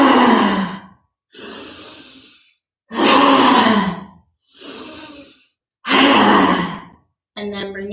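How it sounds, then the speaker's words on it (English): During a yoga class, a person makes three forceful open-mouthed "ha" exhalations, each long and loud, with quieter breaths drawn in between. "So you're going to take 3 ha breaths and then return to crocodile."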